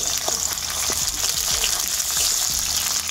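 Onion fries in hot oil with chopped tomato and green chillies, giving a loud continuous sizzle close up, broken by soft scraping stirs.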